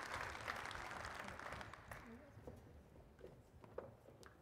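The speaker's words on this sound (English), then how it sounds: "How about another round of applause for Jennifer?" Audience applause for an award recipient at a women's professional association event, filling the room for about two seconds, then thinning into scattered claps and murmurs.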